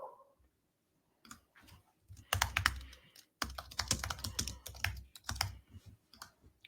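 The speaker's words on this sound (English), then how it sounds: "you're going to have to watch me type for a second" Bursts of computer keyboard typing during online form entry, rapid clustered keystrokes in several runs with brief pauses, fairly close and moderately loud, with no talking.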